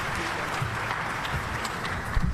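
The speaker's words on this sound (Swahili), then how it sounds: "Makofi kwa tafadhali." Audience applause at a summit panel session, a steady dense patter of clapping throughout with no voices over it.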